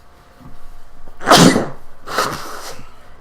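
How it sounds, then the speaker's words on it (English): A person sneezes loudly and close up, a sharp explosive burst followed by a second softer sneeze-like exhalation, with only faint background noise. "I'm gonna sneeze."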